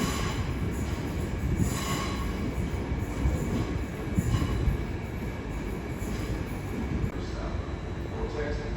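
Class 387 electric train wheels squeal at a London terminus, with shrill metallic screeching over a rumbling rolling train, sustained and fairly close throughout.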